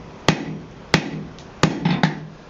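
Blacksmith tongs being forged and tapered on an anvil: four sharp, ringing hammer blows land about two-thirds of a second apart, loud and close, with a faint fire hum between strikes.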